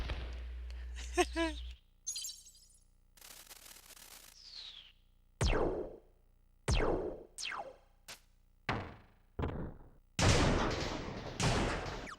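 A string of cartoonish firework effects from the video game Kirby 64: whistling launches followed by sharp bursts and crackling pops, several in quick succession, loud and isolated.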